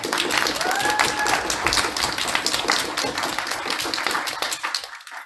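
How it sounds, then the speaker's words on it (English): An audience at a university speakers forum applauds a speaker, dense clapping that holds steady and then thins out and fades toward the end, with a faint voice briefly heard over it. "We give her another round of applause."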